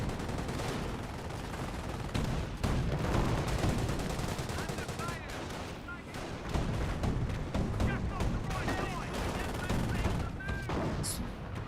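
Incoming artillery and gunfire in the Company of Heroes strategy game, continuous booming shells and rattling machine-gun bursts layered into a dense battle din, with a voice talking faintly underneath.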